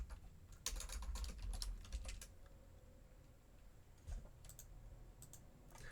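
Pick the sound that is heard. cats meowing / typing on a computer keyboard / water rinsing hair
typing on a computer keyboard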